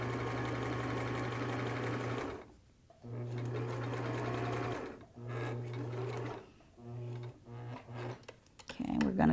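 A sewing machine stitches a cap seam in several bursts, its steady close hum running for a few seconds, pausing, then restarting in shorter runs as it works around a corner.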